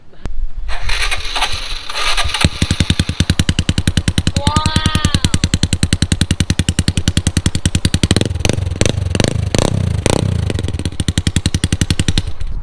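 A Honda Wave 110i motorcycle with a loud exhaust idles in rapid, choppy pulses, then is revved hard in several sharp bursts, very close and harsh throughout.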